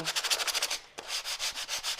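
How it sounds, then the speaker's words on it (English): Sandpaper scrubs wood back and forth in quick rhythmic strokes, brief pause, then resumes with steady rasping rubs, close and fairly quiet. "a little bit of sanding"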